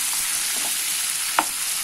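Chopped onions and tomatoes fry together in a pan for a paneer butter masala, giving a steady, close sizzle with a single brief clink of a utensil.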